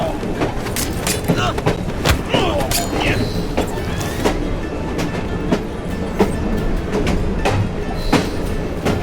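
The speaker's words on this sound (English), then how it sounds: "at least we have a train now" A steam-era train in Assassin's Creed Syndicate rumbles along the rails with rhythmic clickety-clack and sharp metallic clanks, loud and close, with music and game sounds mixed in.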